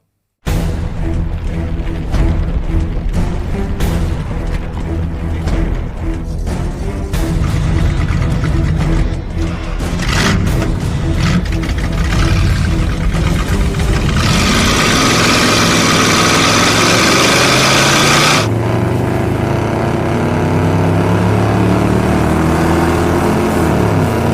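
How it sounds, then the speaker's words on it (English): Monster wagon drag race cars rumble through a 3-way heads-up drag race, loud idling engines turning into a sustained roaring run and a passing surge, steady and close throughout with no talk. "the final event is the 3-way heads-up drag race"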